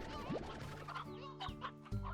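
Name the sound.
rooster clucking in Slime Rancher video game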